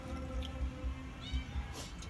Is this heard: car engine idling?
no